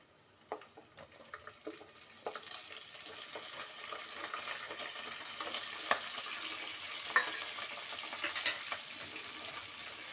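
Cleaned crabs dropped into a pan of onion and tomato and fried in oil, with a steady sizzle that grows denser, plus occasional sharp clicks and scrapes from stirring.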